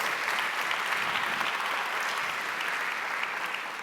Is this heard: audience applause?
yes